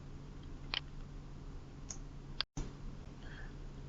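A computer mouse clicks a few times during accounting software setup, with short sharp ticks spaced apart over a steady low hum and no talking.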